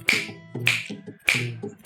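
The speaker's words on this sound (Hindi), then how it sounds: "वो बाहर पेड़ पर जाके बैठ गए और चुटकी बनाना चालू कर दिया उन्होंने" Four sharp finger snaps ring out in an even rhythm, each crisp and close with a short decay, with nothing else heard between them.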